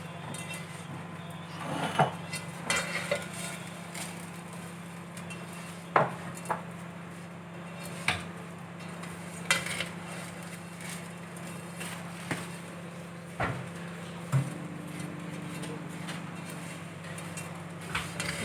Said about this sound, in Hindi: बहुत ही प्यारी खुशबू आ रही है इनकी देसी घी में। अब इनको थोड़ा सा हम फ्राई करेंगे।